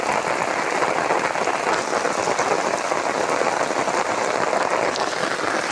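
Steady rain falling outdoors, a dense continuous hiss of drops spattering on surfaces that stays even and fairly loud from start to finish, with no voices.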